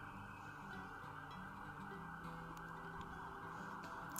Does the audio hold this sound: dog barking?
no